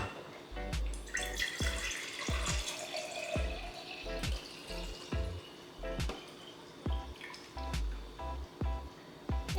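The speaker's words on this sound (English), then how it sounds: "Water." Tap water runs in a broad steady wash, close and moderately loud, broken by a series of sharp clicks and knocks from handling nearby, with no talking.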